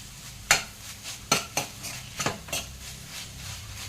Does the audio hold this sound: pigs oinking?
no